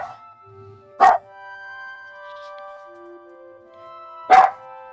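Two sharp dog barks ring out about three seconds apart, loud and close, with quiet tonal background sounds between them.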